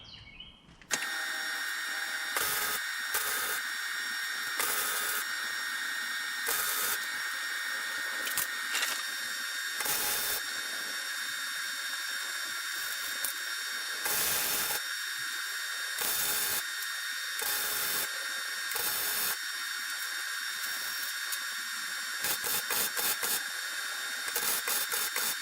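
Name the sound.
tack welding a synthesizer cart frame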